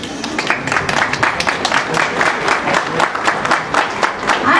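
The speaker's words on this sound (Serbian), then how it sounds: "Ajmo jedan aplauz za ovu djevojku koja je trebala da ostane slijepa" Audience applause at a charity concert, dense sustained clapping from a crowd filling the whole stretch at steady loudness, with faint voices mixed in.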